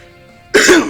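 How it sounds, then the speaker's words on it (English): A single sharp, close cough, loud and brief, bursting out after a moment of quiet. "I've been having a cough these past couple days"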